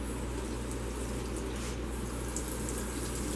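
Chopped cucumber mixture for sweet pickle relish is drained and dumped into a cheesecloth-lined colander, giving a steady wet, liquid pouring wash that runs continuously and evenly at close range.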